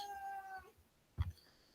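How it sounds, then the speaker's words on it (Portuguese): A house cat in a room gives one short meow at the start, followed by a pair of soft low bumps and another thump at the end, quiet and close with no speech. "Gato aqui que tá assistindo a aula e tá me empurrando o banco."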